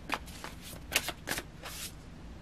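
Tarot cards being shuffled by hand before one more card is drawn, a run of crisp riffling flicks and slaps close up over about two seconds, with no talking.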